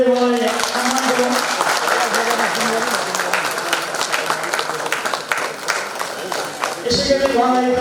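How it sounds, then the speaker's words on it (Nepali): Loud applause from attendees at an association's annual general meeting, sustained clapping that carries on under music and voices before fading near the end. "साथीहरू जोरदार तालीले उहाँलाई सम्मान गरौँ।"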